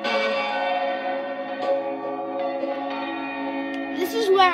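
Half-muffled church bells at All Saints, Maidstone ring on Boxing Day, their sustained, echoing tones overlapping in a steady peal with a strike near the end.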